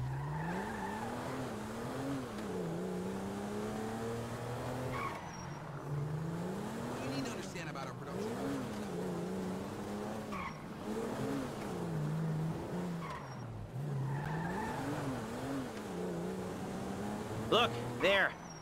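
Car driving in GTA V, with engine revving that rises and falls through repeated gear shifts and tires squealing now and then, steady and fairly close, with game voices talking over it.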